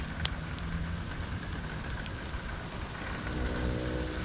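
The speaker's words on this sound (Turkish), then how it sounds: "Böyle yer yer yağmurlu, yer yer yağmursuz ilerliyor." Steady rain pours down in a rural village in winter, a dense, even hiss with scattered drop hits and no voices.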